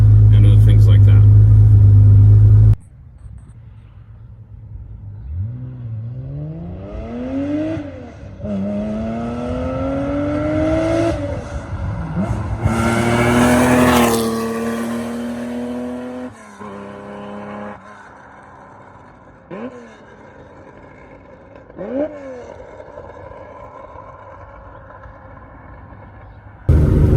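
Early Porsche 911 fitted with a GT3 muffler, heard from inside the cabin with windows up, revving hard in repeated rising sweeps toward redline with shifts between, loud and close.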